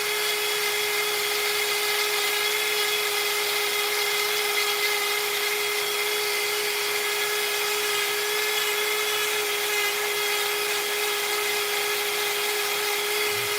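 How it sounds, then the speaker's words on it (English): Dremel rotary tool carving basswood, a steady high-pitched whine with a faint constant tone running unbroken and fairly close for the whole stretch, no voices. "I don't Dremel basswood very often"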